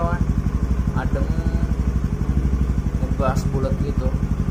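A Honda motorcycle fitted with an aftermarket silencer exhaust idles steadily nearby with a low, even, rumbling pulse, while someone talks over it.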